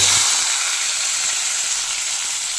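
Chopped onion and tomato dropped into hot oil seasoned with panch phoron, giving a loud, steady hiss and sizzle that fills the whole clip without pause.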